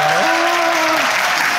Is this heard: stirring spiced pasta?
no